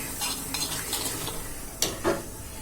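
Tadka of mustard seeds, curry leaves and Kashmiri chili stirred in a pan, with a steady sizzle of hot oil and a few scraping knocks of a utensil against the metal, close by.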